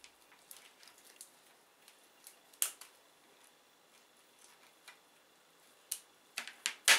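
Sterilized scissors snip dead Cattleya orchid roots with faint, irregular small clicks and crisp snips. A few louder cuts stand out near the end in a quiet room.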